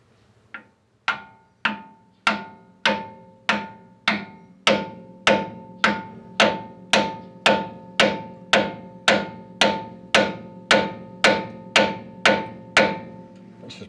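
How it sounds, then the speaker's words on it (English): A copper hammer strikes a suspension ball joint on a Land Rover Discovery 2, about twenty sharp metallic blows in a steady, even rhythm, each with a short ringing decay, close and alone. "Now I'm going to use a copper hammer"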